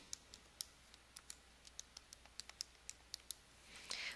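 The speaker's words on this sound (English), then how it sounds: "Now I'm just going to type that in on my calculator" Fingers tap out a quick, irregular run of small, crisp clicks on calculator keys, each a short tick at low level in a quiet room, with a brief soft rustle at the end.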